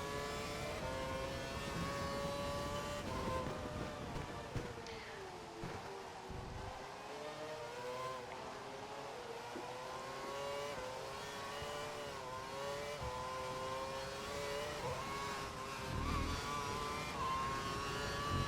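A Formula 1 race car engine at Shanghai drones continuously, its pitch rising and dipping as the throttle is worked, loud and steady throughout.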